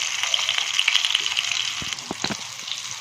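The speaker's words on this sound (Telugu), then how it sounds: "సిమ్లో పెట్టుకొని వేయించుకోవాలి అయిలో కాదు సిమ్లో పెట్టుకొని చక్కగా లోన కూడా వేయించుకోవాలి" Stuffed bitter gourds fry on a low flame in a steady, bright sizzle of oil with fine crackling pops and a few soft knocks near the end, heard close and with no talking.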